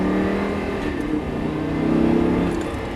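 A car pulls away on a race circuit and accelerates through second and third gear, its engine note loud and close with a steady rising drone and no voices.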